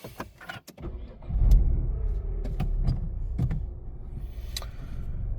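A Dacia Sandero Stepway Extreme+ engine cranks and catches, then settles into a low steady idle close by, with a few clicks and knocks around it.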